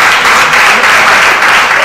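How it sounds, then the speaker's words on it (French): A crowd claps steadily and loudly, a dense wash of applause that holds at an even level throughout. "Applaudissez pour elle."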